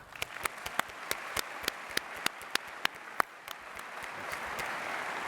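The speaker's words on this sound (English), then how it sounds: "So let's give an applause to them." Scattered audience applause in a conference auditorium at an opening ceremony, a thin patter of individual claps spread across the room with a few sharper near claps, steady and fairly quiet throughout.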